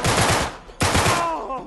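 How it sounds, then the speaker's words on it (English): Rapid enemy gunfire in Uncharted 3: two loud bursts of automatic shots, the second starting partway through, each a quick rattling string of cracks that trails off. "Oh, we got people shooting at us."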